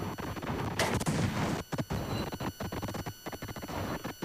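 Video game gunfire from a tank battle, rapid bursts of shots and blasts crowding together in a dense loud barrage, followed by sharper separate cracks with short gaps between them.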